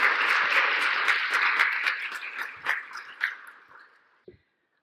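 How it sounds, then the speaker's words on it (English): Conference audience applause welcoming speakers, a dense burst of clapping that thins out into a few scattered claps and fades to silence. "Please join me in applause in welcoming Dr. Franzen, Ms. Bunk, and Ms."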